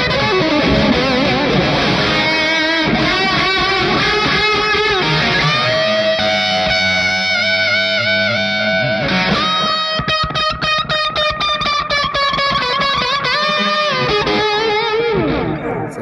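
An electric guitar rings out loud through distortion and delay effects, with sustained notes, swells and repeating echoes layering over one another and no talking.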